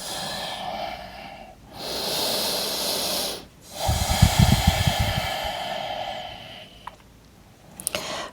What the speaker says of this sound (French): Ici, 3 longues respirations.